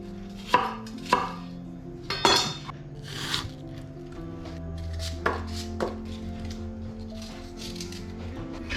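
A knife cutting apples into quarters and smaller pieces by hand gives sharp, irregular chopping knocks on a board, several distinct close thuds mixed with light clinks of utensils.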